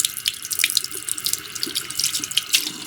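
Hot water runs steadily from a household tap into a sink, fed by a 50-gallon water heater just refitted with new 4500-watt elements; a continuous close hiss and splash with small spattering bursts, no talking.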